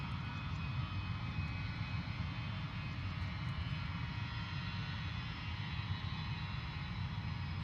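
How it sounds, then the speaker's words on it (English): A passenger airplane lands at London Luton Airport in fog, its engines giving a steady, loud, broad roar that holds evenly throughout with no voices over it. "Beautiful touchdown, eh? Beautiful landing."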